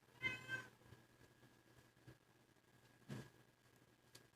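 A pet cat meows nearby, a couple of faint, thin meows spread over a few seconds amid quiet room noise and small bumps, with no talking.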